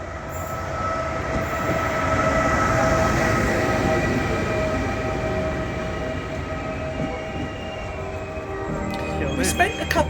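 A train rumbles past near Pisa, Italy, with a steady roar and a faint metallic whine, with brief rattling and squeaks near the end.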